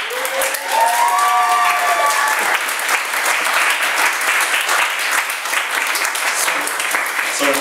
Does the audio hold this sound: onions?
no